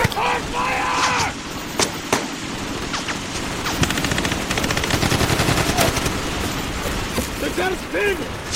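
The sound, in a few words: gunfire in an action film shootout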